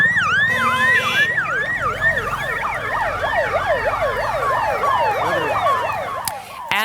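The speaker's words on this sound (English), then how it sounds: "Ambulances racing to a local hospital carrying the injured there." Several ambulance sirens wail together as the vehicles race to a hospital after a stampede at the Maha Kumbh festival in northern India, overlapping rising and falling tones, loud and continuous over traffic rumble.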